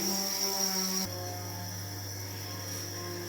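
Crickets chirp steadily at a Thai cricket farm where they are laying eggs, a dense continuous high trill with a constant low hum underneath, and no one speaking.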